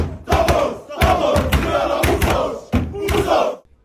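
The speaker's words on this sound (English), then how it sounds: "Their post-match victory song." Rugby sevens team chanting a post-match victory song at the Hong Kong Sevens, loud rhythmic group shouts in bursts with a crowd roaring around them.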